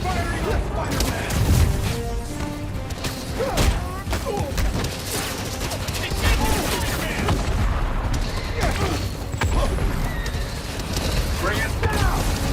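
Rapid bursts of video-game gunfire aimed at Spider-Man in Marvel's Spider-Man: Miles Morales, loud repeated volleys and booms mixed with mechanical clanks, with enemy voices shouting over the shooting throughout.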